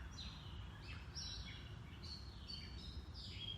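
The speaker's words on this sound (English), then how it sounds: "We do have lots of birds singing" Several birds chirp and trill faintly in the distance over a steady low background rumble, their calls overlapping in short bright phrases.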